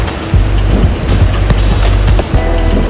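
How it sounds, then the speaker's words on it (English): Steady loud rain in Ecuador pours down on surfaces nearby, a dense constant hiss with scattered heavier drops and patters, mixed with a low rumbling wind. "Got a rainy day."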